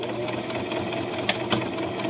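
A sewing machine stitches cloth in a steady rapid whir, close and moderately loud, with two brief sharp clicks near the end.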